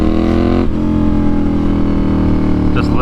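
Motorcycle engine revving on a ride home through traffic, a loud steady drone with rich harmonic layers and crackling exhaust burbles near the end, close and continuous.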